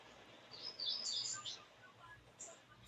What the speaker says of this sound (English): who's birds chirping?